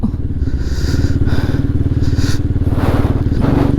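A Scram off-road motorcycle ridden on a trail, its engine running loud and close with a steady, throbbing pulse and rattling clatter throughout.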